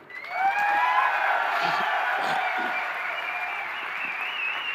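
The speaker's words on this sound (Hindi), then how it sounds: "कितनी ताली बजनी चाहिए?" A large audience at a company event in Kota bursts into loud applause with cheers and whoops. The clapping swells quickly and holds steady.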